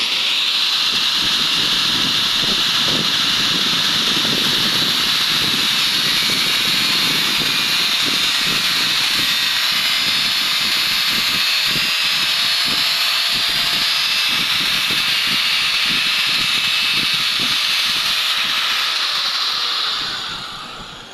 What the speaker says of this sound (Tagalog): Grinder, putol muna tayo.